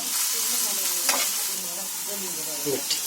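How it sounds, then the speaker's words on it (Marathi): Onions and tomatoes fry in a pan in a home kitchen, a continuous close sizzle with a couple of sharp utensil scrapes as they are stirred. "इकडे कांदा पण झाला तर टोमॅटो टाकले"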